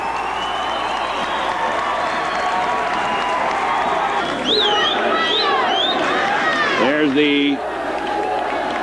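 Packed arena crowd at a New Trier versus Loyola high school hockey game, a steady loud roar of cheering and noise throughout, with an announcer talking over it and whistle-like tones near the end.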